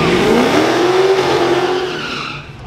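Drag race launch of a 1320 car against a supercharged Dodge Charger Hellcat at Gapfest 2022, with loud engines and a rising squeal that fades as the cars pull away.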